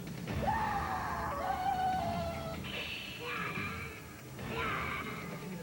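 A horror film scream effect: several long, wavering wails and shrieks rise and fall over about five seconds, loud and close, with no speech.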